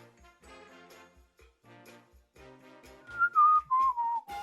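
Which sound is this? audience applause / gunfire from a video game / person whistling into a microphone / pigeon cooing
person whistling into a microphone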